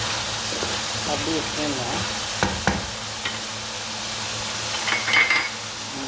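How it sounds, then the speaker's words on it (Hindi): Minced meat (keema) fries in a pan with a steady sizzle and hiss, broken by a few utensil knocks and scrapes, while someone talks briefly over it. "इसको मैं 3-4 मिनट ऐसे ही फ्राई करूँगी"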